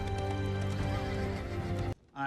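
Horses in a Game of Thrones episode make a steady, dense layered sound that cuts off abruptly near the end, followed by a brief softer burst.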